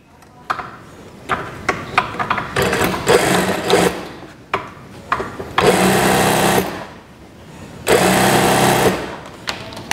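Sewing machine stitching the leg seam of elastic-waist shorts, starting with quick stuttering taps and then several sustained loud whirring runs separated by brief pauses, with no talk.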